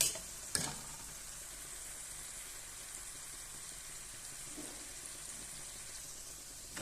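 Liver pieces spooned over potatoes frying in a pan, giving a steady, even sizzle throughout with one sharp clink of the spoon near the start and a faint scrape later.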